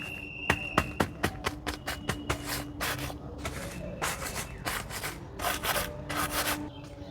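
Loose garden soil is crumbled and rubbed by hand to prepare it for sowing leafy greens, making close, gritty scratching bursts, first in quick short strokes and then in longer rustling rubs.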